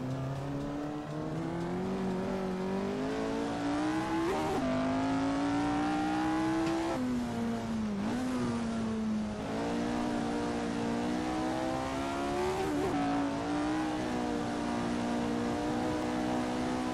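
Race car engine in Assetto Corsa, a loud continuous high-pitched whine that climbs in pitch through the gears, with brief drops at each shift and repeated surges of acceleration, close and unbroken.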